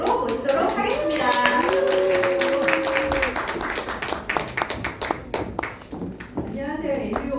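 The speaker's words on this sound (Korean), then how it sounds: "안은숙 리더님을 큰 박수로 모시도록 하겠습니다." An audience at a team meeting claps to welcome a leader to the front, loud dense applause after a brief spoken introduction, then thinning into scattered claps as talking resumes.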